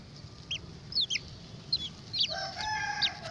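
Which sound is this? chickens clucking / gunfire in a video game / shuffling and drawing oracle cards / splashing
chickens clucking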